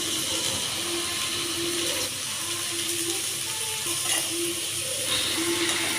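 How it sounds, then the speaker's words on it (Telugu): Seasoning seeds and spring onions fry in hot oil in a pan for an egg dish, giving a steady close sizzle and hiss that runs the whole time, with faint clinks of stirring and no voices. "అందులో పోపు గింజలు అండ్ స్ప్రింగ్ ఆనియన్స్ వేసి ఫ్రై చేసుకోవాలన్నమాట"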